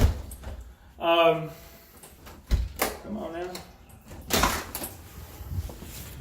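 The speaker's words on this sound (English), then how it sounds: "I can't even get the door open." A stuck door is pushed and rattled at a house, with repeated knocks, scrapes and key-like jangles in bursts while a person speaks briefly in between.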